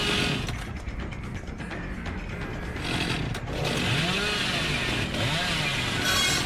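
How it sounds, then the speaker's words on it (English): Chainsaw in the horror video game Dead by Daylight, a rough, buzzing motor that roars continuously and surges in pitch a few times as it revs, loud against a noisy game backdrop. "we missed the fucking chainsaw there"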